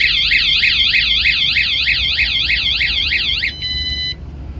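A VanGuardian van alarm set off by a tap on the door handle wails in a loud, rapid warbling siren cycle close by, then switches to a steady tone before cutting out.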